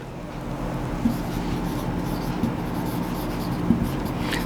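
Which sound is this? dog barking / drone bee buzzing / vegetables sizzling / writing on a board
writing on a board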